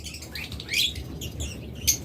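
Lutino opaline budgerigars chirp and twitter in quick, bright bursts close by, several calls overlapping against a low background hum.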